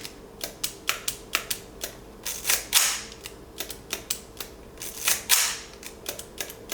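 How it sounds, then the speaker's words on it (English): A Nikon FT film camera's mechanical shutter firing again and again at a fairly even pace, crisp sharp clicks with a few louder, longer snaps, close up and alone. "I had this problem with my Nikon FT where the shutter was firing every other frame."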